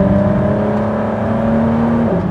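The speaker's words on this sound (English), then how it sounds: "I wouldn't say that the engine sounds great, it's just noisy." A loud Ford GT twin-turbo engine roars steadily from inside the cabin at Road America, with a whining hum that holds pitch and then drops slightly near the end.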